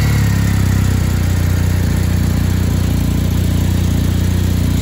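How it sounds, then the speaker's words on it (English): A motorcycle engine runs at a steady, loud idle right up close, its even low rumble filling the whole stretch with no voices over it. "I'll just fire the bike on."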